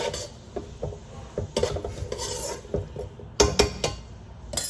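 Vegetable fried rice with yellow onion being tossed and stirred in a pan, with irregular scraping and clinking of a utensil against the metal, close and moderately loud, no talking.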